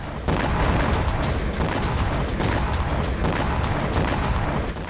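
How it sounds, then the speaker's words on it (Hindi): A loud, continuous barrage of heavy booms and crackling blasts from a drone strike on an explosives factory in Russia rumbles on without pause. "जहां रूस विस्फोटक बनाता था, वहीं यूक्रेनी ड्रोन से हुआ जोरदार धमाका।"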